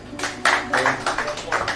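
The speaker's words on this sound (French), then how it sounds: "Mesdames et messieurs, de la Mora, sous vos applaudissements." Applause from an audience at a poetry declamation evening greets a performer: a few loud, close claps in a quick, uneven rhythm over a brief stretch.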